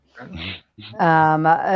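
A dog gives short muffled yips and then a sustained high, wavering whimper, close and fairly loud over a couple of seconds.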